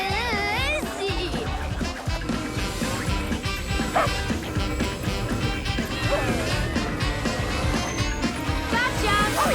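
A cartoon dog barks and yips in a busy animated chase scene, the yaps loud and repeated over energetic music and sound effects, with characters talking around them.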